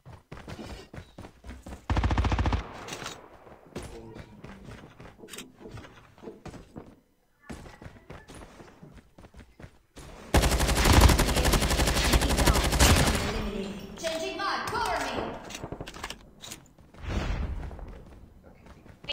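Gunfire in the mobile shooter Call of Duty Mobile, with bursts of shots, the loudest a dense sustained volley midway, mixed with game effects and some talk.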